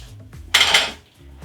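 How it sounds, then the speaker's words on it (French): Eggs and honey being whisked together in a bowl, heard as a short burst of utensil scraping and clinking against the bowl lasting about half a second, fairly close and loud, with quiet surroundings before and after. "On va prendre le soin de bien fondre le miel avec les œufs."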